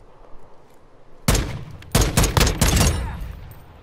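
Gunfire in the Call of Duty DMZ video game: a sudden loud burst of rapid shots, then several more clustered volleys, close and punchy against a quiet background.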